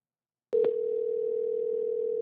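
After a short click, a steady telephone dial tone starts and holds unbroken at an even level on the line, with no talking.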